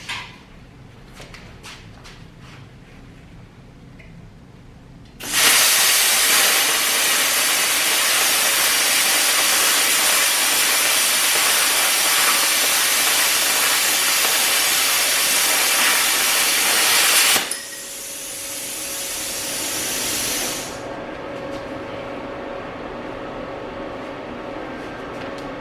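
A Bestarc BTC500DP pilot-arc plasma cutter cuts 1/8 inch aluminum with a sudden loud, steady hissing roar that lasts about twelve seconds. It then drops to a softer air hiss as post-flow air runs, and that fades out.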